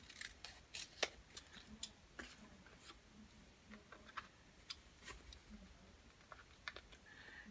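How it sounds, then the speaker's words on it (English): Sharp, irregular snips of hair scissors cutting, blades gummed with sticky residue, close and quiet, with small clicks between them and no talking. "I'm telling you, I'm going to have to get that sticky stuff off there. It's messing with my scissors."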